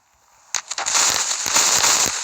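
TNT blocks blowing up in Minecraft, about four set off together, burst in a quick run of sharp blasts that merge into loud continuous crackling and rumbling, with no talk over them.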